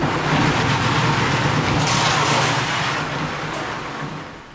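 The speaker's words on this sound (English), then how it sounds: "I put the electric motor on and it is super fast" A homemade conveyor belt driven fast by an electric motor, a loud steady whirring rumble with a low hum that holds throughout and eases slightly toward the end.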